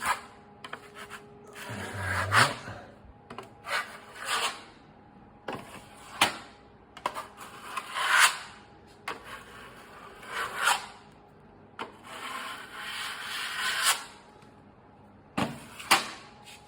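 Ready-mix filler being spread over a hole in plasterboard with a smoothing blade: repeated short scraping, rasping strokes at close range, each sweep rising and fading in an irregular rhythm, with quiet pauses between passes and no talk.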